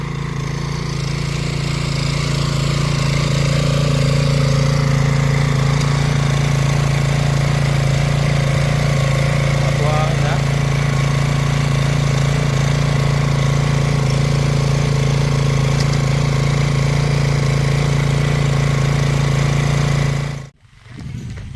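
A Kawasaki 650cc motorcycle idles steadily and close by, a constant low engine drone holding for about twenty seconds before cutting off abruptly at the end.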